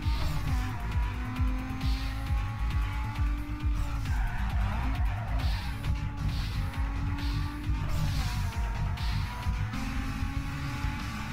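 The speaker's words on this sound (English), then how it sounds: "This is the Rachel car for Underground 2" Rachel's Nissan from Need for Speed Underground 2, driven in Need for Speed Payback: a steady loud engine drone with repeated tire squeals and skids as the car slides through corners, continuous with no talk.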